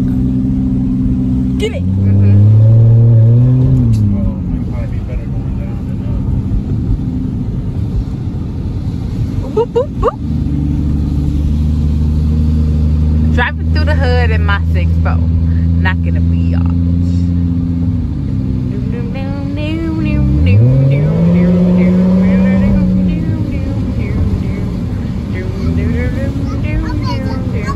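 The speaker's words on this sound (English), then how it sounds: "I'm gonna drive slow so it ain't loud." A car engine hums steadily as the vehicle drives slowly, with tonal engine drone rising and settling through gentle accelerations, heard close from inside the car while people talk and exclaim over it.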